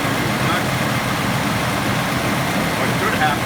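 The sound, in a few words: Mercedes W126 V8 engine running at idle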